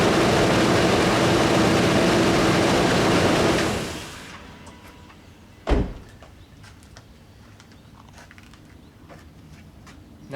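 A car engine fitted with a water-to-hydrogen electrolysis kit runs loudly and steadily at first, then drops to a quieter idle. A single sharp knock breaks the lower, steadier hum partway through.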